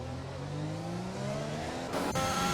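F1 race car in a racing video game at the Monaco Grand Prix, engine whining and rising as it passes close by, with a loud sweep near the end and no talk.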